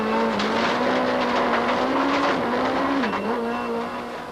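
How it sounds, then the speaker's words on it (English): Volkswagen Golf rally car sliding sideways on a gravel stage at the Tour Natal 2004, its engine holding a steady loud drone with a brief dip and pitch wobble as it passes. "Watch closely as he gets the Golf going sideways as he passes"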